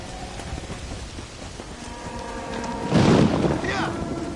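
Heavy rain pours continuously in a Red Dead Redemption thunderstorm, and a loud burst of thunder rolls in near the end.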